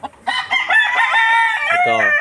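A Sambuanga white native rooster crows once, close and loud, a harmonic drawn-out call lasting about two seconds.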